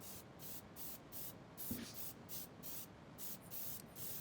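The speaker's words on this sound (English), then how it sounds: "we're going to start spraying the roof" Faint, rhythmic hissing bursts of aerosol spray paint on a Hot Wheels '68 Custom T-Bird model roof, repeated in short pulses with brief gaps, quiet and close.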